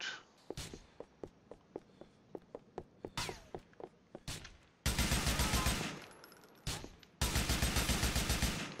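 Gunfire in GTA IV: a run of separate single shots roughly twice a second, then loud sustained bursts of automatic fire broken by short pauses.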